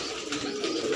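Fancy pigeons coo in a soft, continuous, low-pitched warble, close and steady for about a second, with no voices.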